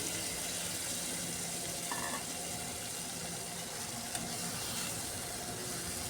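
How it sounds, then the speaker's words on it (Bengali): Fried chicken pieces going into a pan of cauliflower curry, giving a steady, dense sizzle with light stirring throughout and no talking. "ফ্রাই করে রাখা চিকেনটাও দিয়ে দিচ্ছি।"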